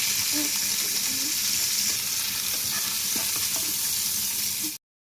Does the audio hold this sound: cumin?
yes